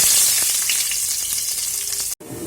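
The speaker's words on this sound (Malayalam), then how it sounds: "എണ്ണ ചൂടായി നമുക്ക് കടുകിട്ട് കൊടുക്കാം. ഇതിലേക്ക് ആദ്യം നമുക്ക് വെളുത്തുള്ളി ഇഞ്ചി ഇട്ട് കൊടുത്ത് നന്നായിട്ടൊന്ന് വഴറ്റിയെടുക്കാം." Mustard seeds, garlic and ginger sizzle and crackle steadily in hot oil for a Kerala-style chickpea curry, a close, dense frying hiss that cuts out abruptly near the end before resuming briefly.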